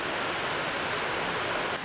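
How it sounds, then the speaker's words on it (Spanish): A waterfall on the route of seven cascades near Campdevànol, Girona, roars as a dense, steady wash of falling water, loud and close throughout with no voices over it. "Cascada número 6."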